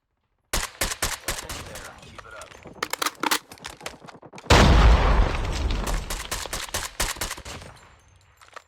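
AS VAL rifle fire in the mobile shooter Call of Duty Mobile, with loud rapid bursts of suppressed shots, a brief pause, then a heavy blast and further volleys under occasional talk.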